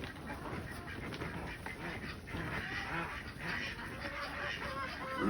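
Ducks on a farm quack and honk softly in the middle distance among other fowl, with a steady outdoor hiss throughout and no talk.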